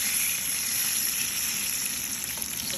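Eggplant slices frying in oil, a steady close hissing sizzle with faint bubbling, unbroken and fairly loud.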